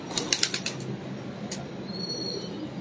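A brief burst of rapid pigeon wing flaps near the start, then another single flutter, over a steady outdoor hiss with no talking.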